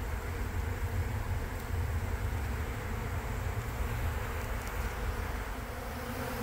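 Honeybees swarm and buzz steadily during removal from a condemned house, a dense, loud, continuous drone close by with no pauses and no talking.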